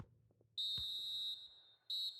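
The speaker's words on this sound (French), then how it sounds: "L'arbitre qui vient de siffler la mi-temps" A referee's whistle blows for half-time in a FIFA 21 Serie A match between Inter Milan and Cagliari. It gives one long, loud, piercing blast followed by a shorter one, heard clearly with no talk over it.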